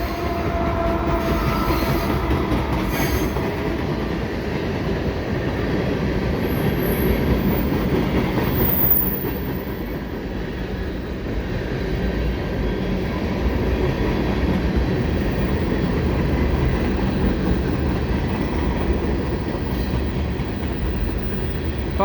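A long CN freight train of tank cars rolls steadily past with a DPU locomotive, a continuous loud rumble of wheels on rail with faint squeals and a brief horn-like tone early on.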